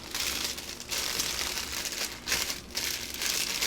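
Paper being folded and crinkled for a gift bag, a close, continuous rustling and crackling that swells and eases in short waves.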